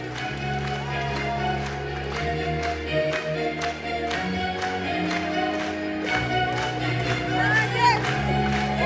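At a stage event in Dagestan, a crowd applauds a new director from the Republic of Dagestan. Rhythmic clapping and crowd noise run continuously over loud, steady music.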